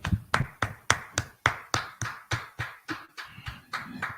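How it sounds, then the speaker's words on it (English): Men at a night brotherhood class clap in a slow, steady rhythm of about a dozen sharp, close claps. "clap it up"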